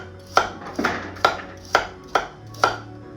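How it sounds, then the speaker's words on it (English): A knife slicing carrots on a new cutting board, six crisp chops in a steady rhythm, close and clear with no talking. "we can mandolin these if we want, or we can just finally slice them this way here"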